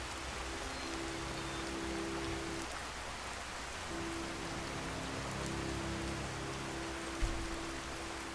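Steady rain falling in the video game Skyrim, a constant hiss of drops spread evenly across the whole stretch, with a low tonal hum beneath and one small thump near the end.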